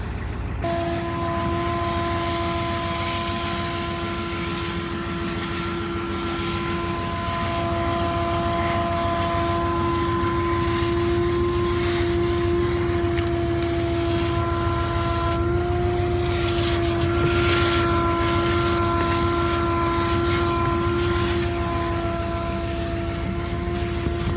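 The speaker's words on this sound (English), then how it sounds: "Just start getting after it with the shop vac and see what we could do." A shop vac runs steadily and loudly throughout, cleaning out the cab of an old Ford F-350 diesel truck that sat for 19 years, its motor whine holding a constant drone with no pauses.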